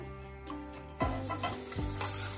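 Ginger and green chili paste hits hot oil with whole garam masala and cracked cardamom for a vegetarian papaya and biuli dal dish. A soft sizzle jumps to a loud, bright crackle, then settles into steady frying with a few stirring scrapes.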